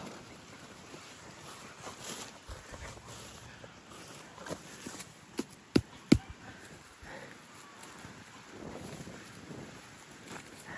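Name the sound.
strong wind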